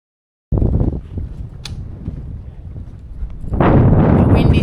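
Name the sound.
strong wind blowing while sailing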